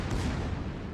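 Secondary guns of the battleship Pommern in World of Warships booming in a dense, continuous barrage of low, rumbling shots over one second, loud and close with no talk.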